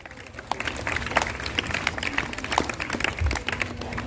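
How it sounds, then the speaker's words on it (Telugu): An audience at a church feast for Nitya Sahaya Matha claps together in a dense, continuous patter of applause, heard from within the crowd. "ఆహ్వానిస్తూ గట్టిగా చప్పట్లు కొడతాం."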